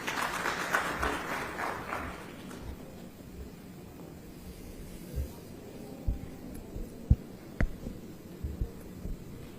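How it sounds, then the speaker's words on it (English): Audience applause welcoming a minister at an aerospace manufacturing conference in Visakhapatnam, a dense clapping wash for the first two seconds that fades to scattered, isolated claps and low room noise. "Let's welcome with a round of applause."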